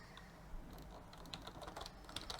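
Quiet, close clicking of keys on a Commodore 64 keyboard, a handful of scattered presses and short runs with pauses between them, with no voices present.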